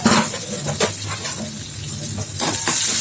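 Onions sauté in a pan, a soft frying hiss with occasional stirring scrapes and light clinks.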